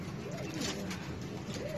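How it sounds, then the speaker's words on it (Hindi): Chinese pigeons cooing in a loft during stormy weather: soft, rolling coos rise and fall twice over a steady, heavy background rush. "ये एक चीना कबूतर है। ये दो कबूतर बैठे हुए हैं"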